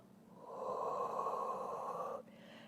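A long, steady breath is pushed out for about two seconds during a home Pilates workout, then it cuts off abruptly into quiet.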